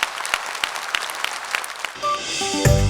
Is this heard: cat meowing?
no